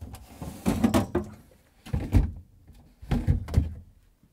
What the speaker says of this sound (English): Let's remove the drawers.